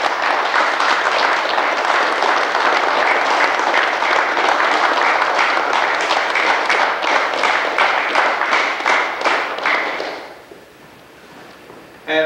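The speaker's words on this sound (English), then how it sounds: "I think these fine gentlemen deserve a big round of applause" An evening audience gives a big, steady round of applause for four gentlemen, loud and continuous for about ten seconds, then fading quickly into quiet, with a voice starting at the very end.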